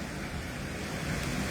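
Typhoon signal 8 blowing through Hong Kong with wind and rain falling together: a steady, rushing roar of gusting wind and driving rain, broadband and unbroken, buffeting the microphone at moderate level, with no voices.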